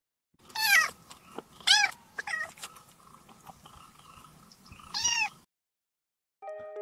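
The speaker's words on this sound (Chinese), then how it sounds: "比如小猫的叫声" A kitten meows several times, with high, thin cries separated by short pauses. A faint squeak comes after a brief silence.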